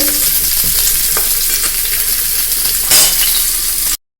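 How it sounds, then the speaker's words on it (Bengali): Potatoes frying in hot oil, a loud close crackling sizzle with the scrape of stirring, a brief louder burst near the end, then abrupt silence. "আলুর গাটা যতক্ষণ না লালচে লালচেভাবে ভাজা হচ্ছে ততক্ষণ কিন্তু সুন্দর করে ভেজে নেব।"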